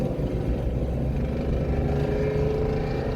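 A race car rolls slowly down the narrow pit entrance at Daytona at night, its engine a steady low drone heard from inside, with no sharp revs or shifts.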